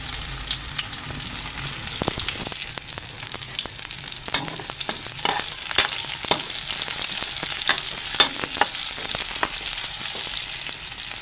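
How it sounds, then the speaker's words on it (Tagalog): Garlic and onion sauté in a hot pan with a continuous close sizzle, crackle and occasional scraping stirs, building slightly in intensity with no voices. "Ayan, gisa-gisa na tayo ng ahos at bombay."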